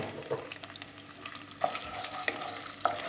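Tomato paste fries in a pan with chickpeas soon to follow, a close sizzle under brisk stirring, with a few sharp utensil scrapes and taps against the pan.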